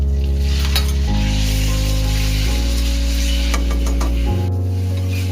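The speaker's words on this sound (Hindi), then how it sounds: "अब मैं इसमें शामिल करूंगा तकरीबन आधा kg बोनलेस क्यूब चिकन" Boneless chicken cubes sizzle and crackle steadily in a hot pan for chicken jalfrezi, heard close beneath loud background music that changes notes every second or so.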